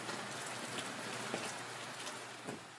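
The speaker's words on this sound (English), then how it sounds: "The rain is so heavy, it's not funny." Heavy rain pours down in Quirino, a dense, constant hiss of water with scattered louder drops and no voices.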